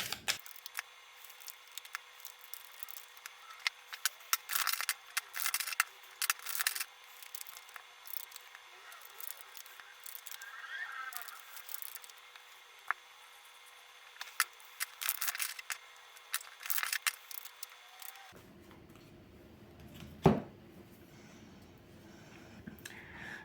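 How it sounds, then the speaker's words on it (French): Tarot cards being laid out on a table: repeated crisp slaps, shuffles and soft rubbing of cards in irregular bursts, close and fairly quiet, with a few brief thuds near the end. "Je pose les cartes et je vous retrouve de suite après."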